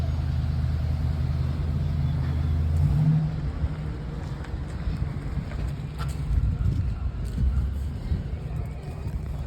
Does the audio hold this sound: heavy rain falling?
no